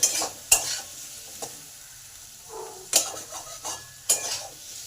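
Potatoes with salt and turmeric are stirred in a frying pan: a utensil scrapes and knocks against the pan in several sharp strokes over a soft, steady sizzle, with no talking.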